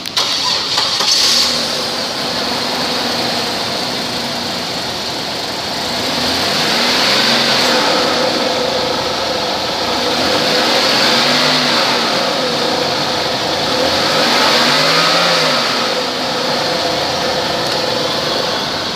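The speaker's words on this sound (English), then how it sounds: "2001 Buick Park Avenue, mileage 118," A 2001 Buick Park Avenue with 118,179 miles starts up close by, then runs steadily. Its medium engine hums at idle, swelling slightly in a few gentle rev-like surges.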